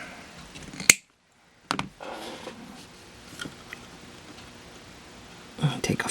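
Metal railing on a model boat is snipped with a few sharp, close cuts spaced apart, one crisp clip early, then scattered quieter snips and handling noises.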